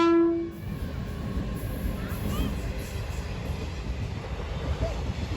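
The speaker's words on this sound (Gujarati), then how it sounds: "આ વખતે છે ને હાવ નજીકથી ટ્રેન નીકળી છે." A large train rolls past very close at a station stop on a pilgrimage journey, a steady loud rumble and rushing noise filling the whole stretch, with a brief horn-like tone at the start.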